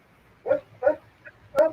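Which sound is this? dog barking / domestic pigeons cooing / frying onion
dog barking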